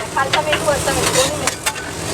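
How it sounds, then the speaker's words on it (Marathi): Vegetables sizzle in a butter and refined sunflower oil mix on a food truck griddle. The frying is steady and crackling, with a few sharp stirring scrapes. "त्याच्यामध्ये आपण बटर आणि मी रिफाईंड सनफ्लॉवर ऑइल याचं मिक्सर आहे ते आम्ही वापरतो"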